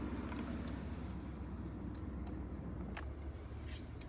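A car driving along a road near woods during a deer hunt, a steady low rumbling engine and road drone heard from inside, continuous and moderately faint.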